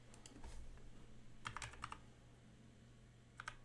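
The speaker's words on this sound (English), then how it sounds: "I'm going to go ahead and just type it in for giggles." Short quiet bursts of key clicks on a computer keyboard as a verification code is typed in, several quick taps in two clusters and a final pair, close and faint.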